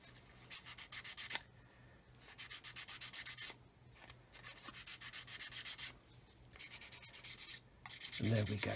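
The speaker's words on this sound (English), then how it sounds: "So I'll go and get the rest of these wings sanded, as I've just shown you" Plastic model aircraft wings of a Roden C-141B Starlifter kit being sanded by hand, with close, rhythmic back-and-forth rasping strokes in bursts separated by short pauses.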